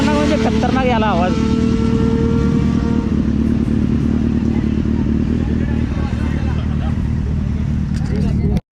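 A Kawasaki Z900 motorcycle engine and exhaust rumbles loud and steady throughout, with a rising whine early on and voices chattering underneath.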